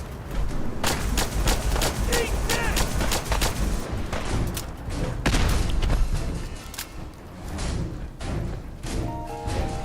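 Rapid bursts of grenade explosions and gunfire in the video game Fallout 4, a dense run of loud booms and cracks clustered close together with little pause between them.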